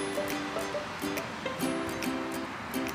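A river flows behind a winter motorhome stopover at a pub car park, its steady broadband rush faint and distant beneath intermittent melodic bird chirps, with no talking.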